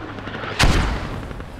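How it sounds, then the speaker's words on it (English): Mortar round striking a capture point in a military video game, one sudden loud boom with a brief decaying rumble after a quiet lead-in. "mortars still peppering the hell out of the capture point from Army of 9"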